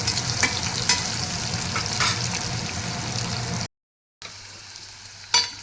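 Long-sliced onions frying in a pan while being stirred, a steady broadband sizzle with scraping stir sounds, briefly cutting out to silence before resuming.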